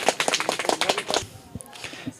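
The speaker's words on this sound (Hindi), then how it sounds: "इनके लिए तालियां" A burst of quick, fairly close clapping from a school audience greets a contestant at a general knowledge quiz competition, then thins out to a few scattered claps within about a second.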